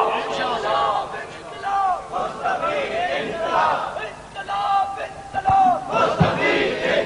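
A crowd at an Eid Milad un Nabi religious gathering chants slogans in loud, rhythmic unison, with voices rising and falling in repeated call-like bursts throughout.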